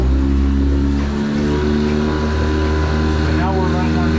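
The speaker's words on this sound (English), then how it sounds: "And now we're running on the kicker motor." An outboard kicker motor running in gear for trolling on a Hewescraft Sportsman boat, a loud, steady, close engine drone with a slight rise in pitch.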